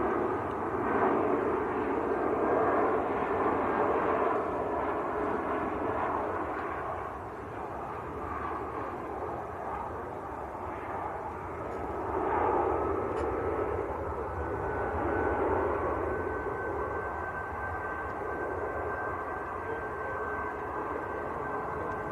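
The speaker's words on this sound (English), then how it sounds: "A319 in the Star Alliance livery." A Lufthansa Airbus A319 in Star Alliance livery, arriving from Frankfurt at Manchester Airport, produces a steady jet engine roar at moderate distance that swells and eases gently throughout, with no voices over it.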